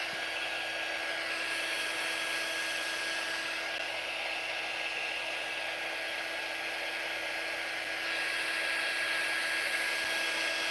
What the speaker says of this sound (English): I've got to get down into these crevices in between them with the dryer.